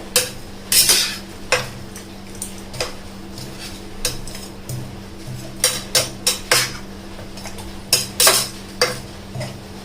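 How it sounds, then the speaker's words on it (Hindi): Spices are stirred into mutton biryani in a pot, with a spoon striking and scraping the metal in uneven clinks and taps over a low steady hum, close and without voices. "और अब ये सारे मसाले हम इस तरह मिला लेंगे"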